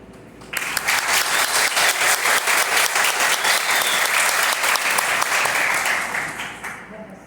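An audience at a university ceremony on the history of a computing department in Campina Grande bursts into loud, sustained applause that fades gradually near the end.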